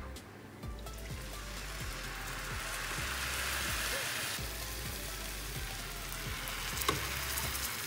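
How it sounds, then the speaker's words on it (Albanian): Homemade pasta pieces fry with chicken in a pan, giving a steady, close sizzle that crackles evenly for the whole stretch with no one talking. "Pra ndaj ne i skuqim tani më tepër."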